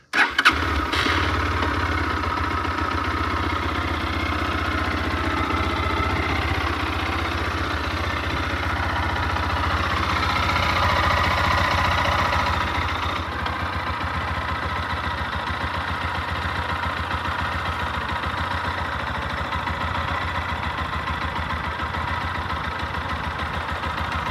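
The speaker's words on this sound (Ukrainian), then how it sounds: "І запустимо двигун, от він вже охолований мінус. Запускається на раз-два." A cold Lifan KPT 200 motorcycle engine catches immediately and settles into a steady, loud idle, its rumbling drone continuing evenly with a slight shift partway through.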